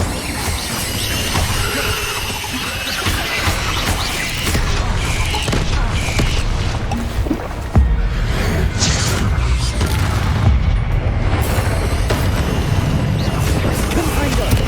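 Confringo fire spell blasts in Hogwarts Legacy, loud booming explosions and whooshes layered over dense game action, with a voice speaking at times.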